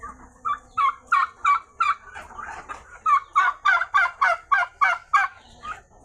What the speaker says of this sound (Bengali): এটা তারকি মুরগি তারকি